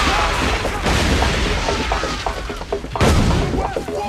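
Heavy cannon fire in a video game battle, a loud booming blast opening the moment and another big detonation later, with rumbling crashes and shouting between them.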